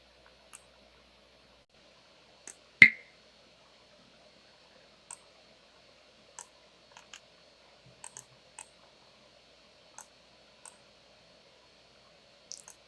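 A computer mouse clicks sparsely in a quiet room, with about a dozen sharp, close clicks spaced irregularly and one louder than the rest.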